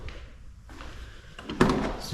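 The door of a 1999–2004 Ford Mustang closes with one solid thunk midway through, close and fairly loud, after some quiet handling sounds.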